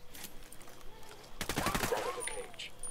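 Gunfire in the Ghost Recon Wildlands video game, a rapid automatic burst of overlapping shots mid-clip, loud and close, with voices in the game's background.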